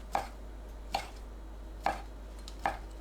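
A knife chops sliced onion on a cutting board for tteokbokki, four sharp, evenly spaced strikes heard close and clear against a quiet room.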